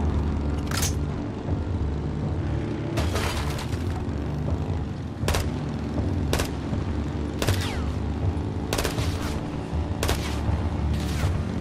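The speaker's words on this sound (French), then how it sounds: "Mitrailleuse, à droite." Gunfire in Call of Duty Modern Warfare II: repeated sharp shots and short bursts cut through a constant rumbling battle bed of engines and music, with no talk.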